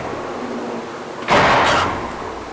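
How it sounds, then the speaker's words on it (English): A neighbor's door slams hard once, a sharp loud bang with a brief rattling tail that fades out over about half a second, against a steady indoor background hum. "she slams the door all the time"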